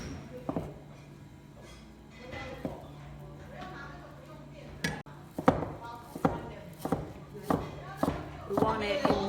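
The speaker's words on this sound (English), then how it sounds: "This is vegetarian ham. We're going to cut it into small pieces." Knife chopping vegetarian ham into small pieces on a board during food preparation, a run of sharp, distinct thuds that grows more frequent and rhythmic in the second half, with a steady low hum underneath.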